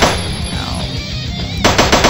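Rapid bursts of AK rifle gunfire in a jungle shooter video game, loud and close, with a brief volley followed by several quick repeated shots.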